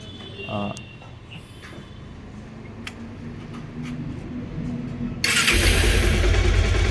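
A Bajaj Pulsar 150 DTSi motorcycle, just fitted with a balancer in a garage, starts up late in the clip and runs loud and close, following a stretch of quieter workshop noise with some talk.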